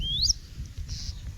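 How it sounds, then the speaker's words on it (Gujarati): A bird calls in an organic farm field at evening, among cluster bean, okra and fenugreek plants: one sharp rising whistle, then a fainter held note, over a low steady rumble. "મસ્ત પક્ષી બોલે છે, જો પક્ષીનો અવાજ આવે છે।"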